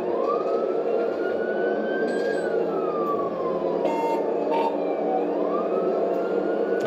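A police car siren wails loud and close as officers begin chasing a stolen BMW, a rising and falling tone sweeping up and down over steady engine and road noise.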